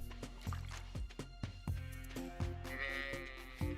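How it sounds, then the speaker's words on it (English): Sheep bleat in the farming video game Stardew Valley Expanded, a short wavering cry heard over busy game sounds, with repeated dripping plops and light music underneath. "Sheep."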